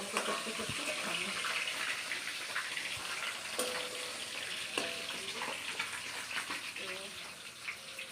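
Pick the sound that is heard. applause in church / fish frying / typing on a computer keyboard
fish frying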